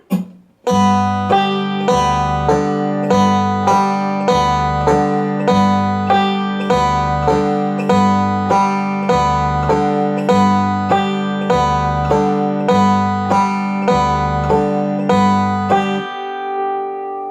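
A banjo rudiment picked with the index finger leading on the second string, a steady, evenly spaced run of bright plucked notes ringing over a repeating bass pattern, close and clear for about sixteen seconds before fading.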